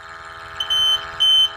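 An Eagle 1 gas detector alarm sounds two loud, sharp electronic beeps in quick succession over a faint steady hum.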